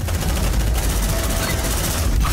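Squad weapons fire in a dense, continuous burst in the tactical shooter Aliens: Dark Descent. The gunfire is loud and sustained throughout.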